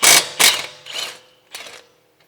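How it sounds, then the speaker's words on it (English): A 17 mm wrench works the caliper bracket bolts on a 2017 Kia Sportage during a front brake pad and rotor job. Four short, rasping mechanical bursts sound up close, each fainter than the last, with no speech. "So now with the 17 millimeter, go ahead and remove the bolts for the bracket, caliper bracket."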